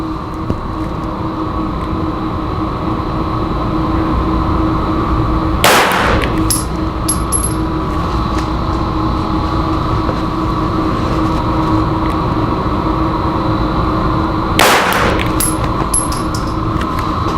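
Two sharp live-fire handgun shots during a shooting drill, spaced about nine seconds apart over a loud, steady background drone, each followed by brief metallic ringing.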